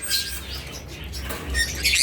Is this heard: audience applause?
no